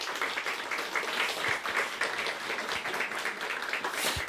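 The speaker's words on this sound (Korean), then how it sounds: "우리 박수로 환영하고" A church congregation applauds to welcome new members, steady clapping filling the room for several seconds at moderate loudness, with a few sharper claps standing out.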